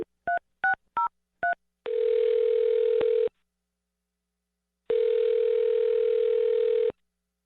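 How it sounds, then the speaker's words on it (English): A telephone being dialed gives four quick touch-tone beeps, followed by two long, steady ringback tones with a pause between them, clean and close, with no talking. "I'm going to dial her phone number right now"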